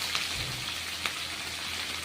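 Vegetables frying in a pan give a faint, steady sizzle and crackle, with a couple of soft clicks and no voices.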